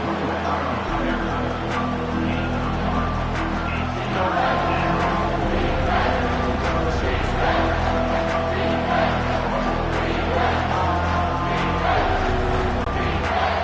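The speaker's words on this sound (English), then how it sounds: "The crowd elevating its energy" Stadium crowd noise from a Florida Gators versus Tennessee Volunteers game in EA Sports College Football 25, a steady dense roar rising in energy on a big third down, layered with band-like tones and continuous throughout.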